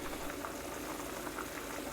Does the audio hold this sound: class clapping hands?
no